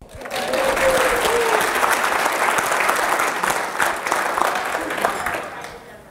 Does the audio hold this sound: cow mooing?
no